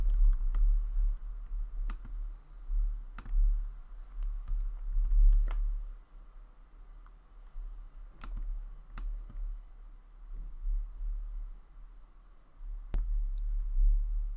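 Computer keys click in short scattered bursts as text is entered on a keyboard, light taps spaced irregularly over a low room hum, close and fairly quiet.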